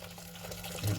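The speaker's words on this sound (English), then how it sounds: "kettle's boiled, so we're just going to pour it out into here." Boiled water pours from a kettle into a pan, a brief quiet splashing stream lasting about a second.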